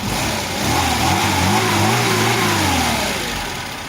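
A Chevrolet Lacetti pulling away just after a compressor repair, its engine revving up and rising in pitch as it accelerates, loud and close, then easing slightly toward the end with no talk.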